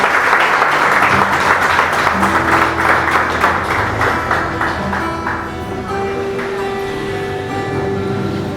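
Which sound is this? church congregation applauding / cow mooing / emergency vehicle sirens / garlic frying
church congregation applauding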